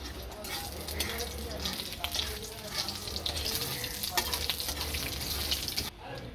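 Whole spices, fennel, a bay leaf and a dried red chili, sizzle steadily in hot oil with occasional stirring scrapes, a continuous close frying hiss that briefly drops near the end.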